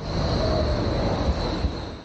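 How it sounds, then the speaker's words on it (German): A train rumbles past nearby in a steady, continuous roar of rail noise with a faint high whine, lasting about two seconds. "Ich mag Züge."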